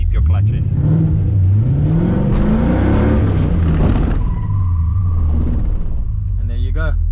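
Car drifting with the handbrake held and the clutch dipped, its engine rumbling and rising in pitch, then tyres squealing loudly and close, with a voice speaking over part of it.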